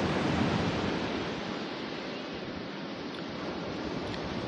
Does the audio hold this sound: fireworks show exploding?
no